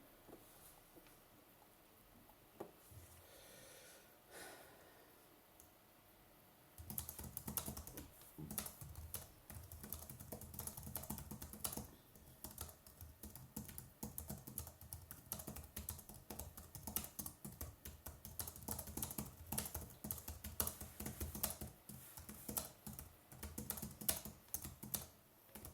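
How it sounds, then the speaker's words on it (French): Fast typing on a PC computer keyboard, a dense continuous patter of rapid key clicks close by, starting quietly and becoming louder and busier after a few seconds, with no talk. "J'écris extrêmement vite et le clavier du PC"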